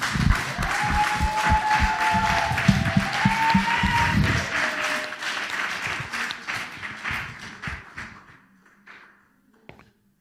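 A church congregation applauds loudly during a French-language sermon, sustained clapping that thins and fades away toward the end into near silence.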